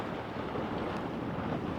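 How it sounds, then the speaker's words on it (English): Strong wind roars steadily over a boat anchored in Poole Harbour, a dense, even rush close to the microphone with wind buffeting throughout and no voices. "it's still pretty windy"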